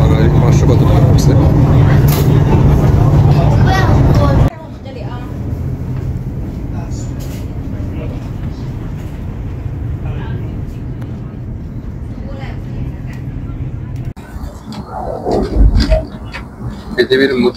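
Inside a moving Chinese bullet train, a loud steady rumble and rushing hum at first, then quieter cabin noise with people talking, and a few thumps near the end.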